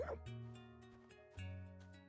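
A dog barks in the video game Eastward: a few short, bright yips ring out over steady, tonal game music, with one near the start and another about halfway through.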